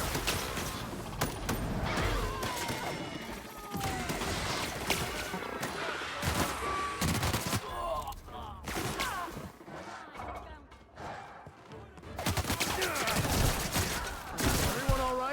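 Gunfire crackles in a firefight in The Outer Worlds video game, dense bursts and volleys layered with shouting voices and game effects, loud and continuous with a brief lull near the middle.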